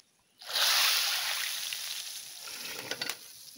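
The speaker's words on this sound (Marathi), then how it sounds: "गुरुजींनी डाळ भाजी आणि सोलकढीसाठी एकत्र फोडणी बनवल्यानी आणि वरसून तडको" Tadka tempering for dal, vegetables and sol kadhi bursts into a loud sizzle in hot oil, a sudden broadband hiss that stays steady and close, then crackles with a few sharper pops near the end.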